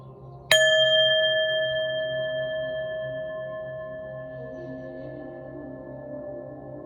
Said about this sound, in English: we're going to hit this bell